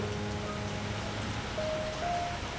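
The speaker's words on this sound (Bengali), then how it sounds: "আবারও গিমগিমাগিম বৃষ্টি শুরু" Light drizzling rain falls outside on a cold, dark day, a soft, steady hiss that holds evenly throughout, with a faint low hum underneath and no voices.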